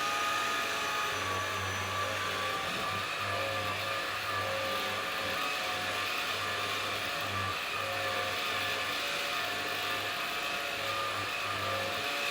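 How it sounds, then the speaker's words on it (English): A steady, droning bristled vacuum cleaner hums on and on at moderate volume, with a low pulsing undertone and no talking. "I'm just grabbing a vacuum that actually has the bristles"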